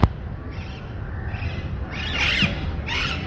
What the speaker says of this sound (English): Actually यहाँ पे 5-7 parrots आते ही हैं, लेकिन अभी जैसे पोल्यूशन नहीं है तो बहुत सारे आके बोलने लग जाते हैं.